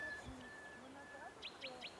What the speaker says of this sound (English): How beautiful the birds sing.